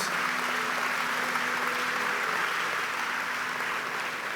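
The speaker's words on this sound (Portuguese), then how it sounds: "pode aplaudir Jesus." Church congregation applauding during a service, a continuous wash of many hands clapping at moderate level, steady throughout with a low hum beneath.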